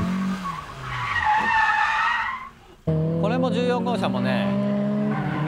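Toyota AE86 tires squeal and skid through a corner in a drift session, a loud wavering screech that cuts off briefly, then returns with engine noise while someone speaks over it.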